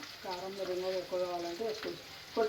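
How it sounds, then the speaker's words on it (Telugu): Bitter gourd pieces frying in a pan are turned with a ladle, giving a steady low sizzle with soft scraping, while a voice talks over most of it. "కాకరకాయ ముక్కలు అన్నీ వేసిన తర్వాత గరిటెతో కలపాలి"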